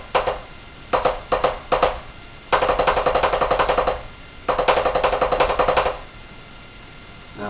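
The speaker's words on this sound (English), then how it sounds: "The first rudiment being the long stroke roll, or the double stroke roll, where you do 2 hits per drum per hand." Drummer playing double stroke roll rudiments with two hits per hand: loud, rapid bursts of evenly spaced strokes in short clusters, then two longer sustained rolls separated by pauses, close and alone.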